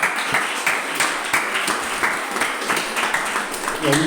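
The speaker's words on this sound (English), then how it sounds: "Please give yourselves a round of applause." A room of attendees at a community listening session applauds themselves, a loud, close burst of mixed clapping with individual claps standing out, lasting several seconds.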